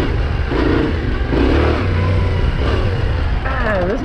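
A Yamaha Tenere 700 motorcycle rides a dirt trail, its engine droning loudly and close with rising and falling revs and rough wind noise, while a rider speaks briefly over it.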